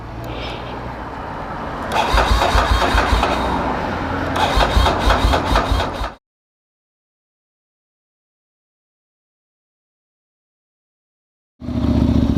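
A Ducati Monster 795 motorcycle with a dual Termignoni exhaust cranks and catches, rumbling loudly with a rough exhaust for several seconds, cuts out to silence, then fires up again.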